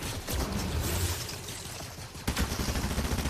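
Continuous Fortnite gunfire crackles in dense, rapid bursts throughout, loud and unbroken, with a sharper burst partway through.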